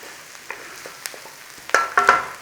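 Chopped garlic sizzles in a hot pan for a corned beef and cabbage pie, with a steady low fry under sharp spoon scrapes and clatter that build near the end.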